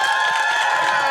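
Live podcast audience applauding and cheering in a room, a steady dense wash of clapping and crowd noise throughout, fairly loud and close.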